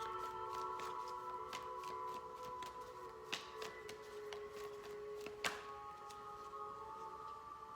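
Tarot cards being shuffled in the hands, a soft continuous riffling with scattered sharper card snaps, quiet and close, alone over a faint steady hum.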